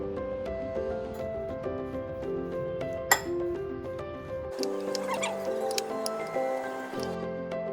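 A fenugreek salad is tossed in a bowl with a spoon, producing light, scattered clinks and soft taps under continuous background music.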